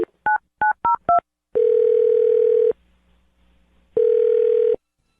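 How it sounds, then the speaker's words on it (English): A telephone call on a radio show starts with five quick touch-tone dialing beeps, followed by two long, steady ringing tones separated by a quiet gap. "I'm going to dial his phone number right now"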